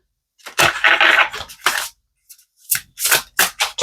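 Tarot cards are shuffled close by in several crisp, papery bursts of riffling and sliding, broken by a short pause before more quick shuffles.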